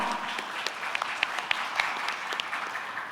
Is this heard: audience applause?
yes